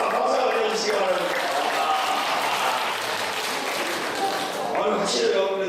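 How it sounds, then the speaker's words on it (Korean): Sustained applause from a crowd, dense and steady throughout, with a brief swell near the end. "박수 한번 해주시기 바랍니다"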